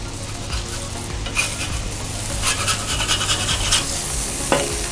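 Smashburgers sizzling steadily on a Blackstone griddle while a metal spatula scrapes and flips them, close and loud, with the scraping clatter growing busier midway and no talking.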